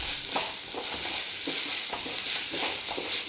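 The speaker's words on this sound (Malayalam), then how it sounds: "നന്നായിട്ടൊന്ന് ഇളക്കി കൊടുക്കാം." Soaked, washed rice is stirred in hot oil in a pan for fried chicken biriyani, a steady sizzle with regular scraping strokes about every half second, close and alone.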